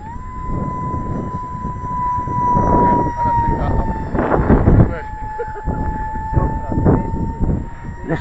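A small T45 RC jet with a 50 mm electric ducted fan on a 4S battery whines steadily overhead, its tone shifting as it flies, while a voice talks over it.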